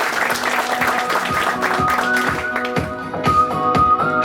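An audience at a morning talk applauds with steady, brisk clapping for several seconds; music plays along underneath.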